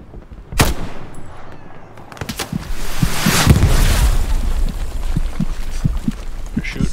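Rapid automatic fire from an FG42 rifle and a machine gun in a World War II shooter game, with sharp shot bursts and a dense, loud stretch of continuous gunfire, some blasts close and some further off.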